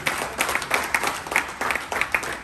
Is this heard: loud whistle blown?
no